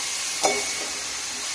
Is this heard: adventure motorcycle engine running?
no